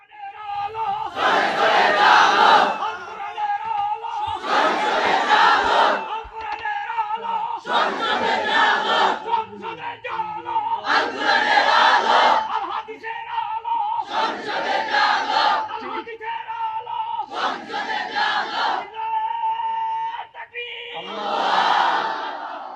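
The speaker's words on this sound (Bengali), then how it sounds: "কাকা এখন স্লোগান দেন, আল কোরআনের আলো সংসদে জ্বালো" A large crowd at a religious gathering chants a religious political slogan in loud, rhythmic call-and-response bursts, seven or so shouted phrases spaced a few seconds apart, each swelling and fading.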